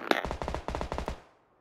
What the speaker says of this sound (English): I hate the way this gun fucking fires